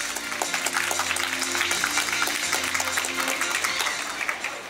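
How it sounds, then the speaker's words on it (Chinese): Dense applause from an audience welcomes a speaker to the stage at the SYM 4MICA new model launch event. The clapping is steady and close, with background music running underneath throughout. "掌声欢迎我们的博正"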